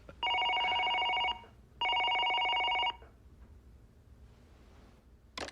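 A telephone bell rings in two long, loud trilling bursts separated by a short pause, followed by quiet room tone.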